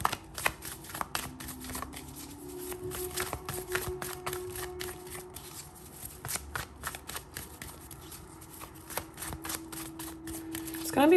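Tarot cards being shuffled in a long run of rapid, crisp riffling flicks, close and steady, ending with a brief louder snap as cards are drawn.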